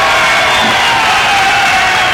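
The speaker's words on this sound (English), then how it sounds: "And that makes the Plymouth crowd very happy." A basketball crowd at a Plymouth high school game roars and cheers after an offensive foul call, a loud, dense, sustained wash of voices filling the whole stretch.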